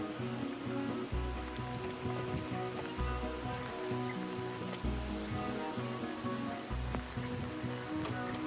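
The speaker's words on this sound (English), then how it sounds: "So it's been raining the whole day while we've been out." Rain falling outdoors on a wet day at the Sitka cruise port trails, a steady soft patter and hiss running throughout, with a low rhythmic rumble underneath and no talk.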